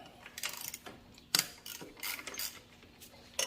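A ratchet with a 12mm socket works a bolt loose on a Honda Prelude, giving short bursts of close mechanical clicking with sharp knocks between them.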